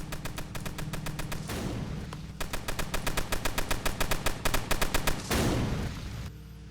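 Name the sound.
gunfire from mounted gunners in video game Tower Battles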